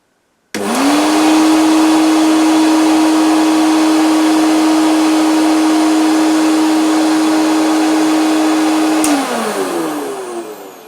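A new-in-box Hoover S1015 Portapower vacuum cleaner switches on and runs with a loud, steady motor whine for about eight seconds, then winds down as it is switched off.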